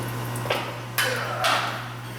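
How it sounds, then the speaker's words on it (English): A metal magnet tray is set down during work on a Subaru EJ25D 2.5 DOHC engine, giving three close, bright metallic clanks over a steady low hum. "get a new magnet tray. Set this to the side."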